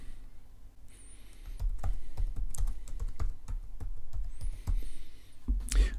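Close computer keyboard typing, a quick run of light key clicks in bursts, with a couple of brief pauses and a soft thump near the end.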